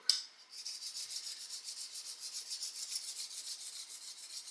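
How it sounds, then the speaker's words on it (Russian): A Yakut knife being worked flat against a 50-40 whetstone, giving a steady rhythmic rasping scrape of strokes that repeats for several seconds at moderate loudness, with no voices. "Берем камушек и начинаем работать по плоскости."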